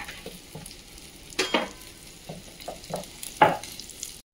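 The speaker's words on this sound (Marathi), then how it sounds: "मस्तपैकी सौंदाळू मी आता फ्राय करतोय" Saundalu fish coated in ginger-garlic paste and Malvani masala frying on a tava: a soft, steady sizzle broken by several sharp scrapes and clinks of stirring, with no one speaking.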